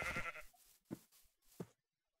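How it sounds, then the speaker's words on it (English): Three faint, short sheep bleats from Minecraft follow a brief rustle, spaced about a second apart and fading to near silence. "Sheep."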